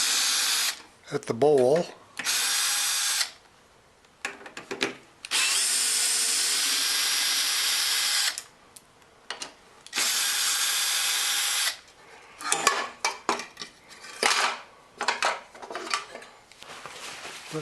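Carburetor being removed from a Craftsman lawn mower, with repeated bursts of a power tool whirring in on and off spells alongside clinks of metal parts, close up, mixed with someone talking.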